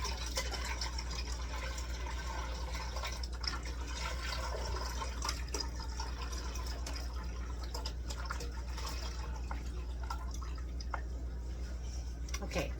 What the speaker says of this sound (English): now I'm going to fill this with water, 32 ounces of water.